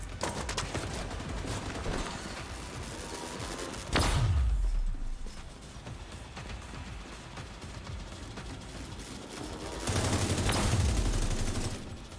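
Enemy light machine gun firing in The Division 2, sustained sputtering bursts of gunfire with heavier thumping blasts around the four- and ten-second marks, loud and close amid constant battle noise.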